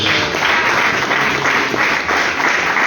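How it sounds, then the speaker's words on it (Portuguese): A Pentecostal church congregation claps steadily throughout, a dense continuous wash of hands in a reverberant hall. "Palmas para Jesus."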